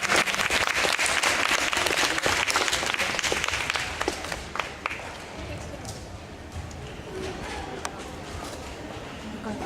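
Dense applause from the audience at an awards ceremony for a Tartu competition final, steady at first and thinning slightly toward the end.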